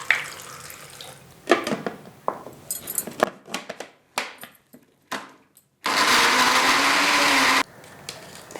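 A blender jug grinds onion, garlic and ginger with water into a fine paste. It whirs loudly and steadily for about two seconds near the end. Before that come scattered clinks, taps and splashes of kitchen handling.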